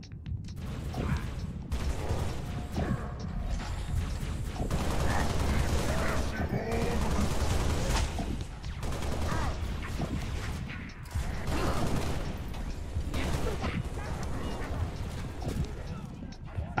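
Gunfire in the Halo: Reach video game, with repeated bursts of shots and mechanical clatter running continuously under loud, busy game action.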